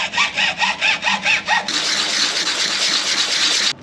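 A hand saw cutting a plastic pipe in a workshop. About seven loud, rhythmic back-and-forth strokes give way to a continuous rasping cut that stops abruptly.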